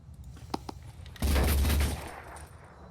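Gunfire in the Phoenix Point video game shoots down a wall: a couple of faint early shots, then a loud, dense burst of rapid fire that lasts about a second before it fades out.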